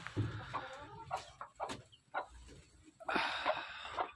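Young chicks hatched under a brooding hen, now grown a little, cluck and peep nearby in a farm setting, with short scattered calls and a louder burst of chatter toward the end.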